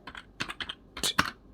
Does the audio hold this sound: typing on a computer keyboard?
yes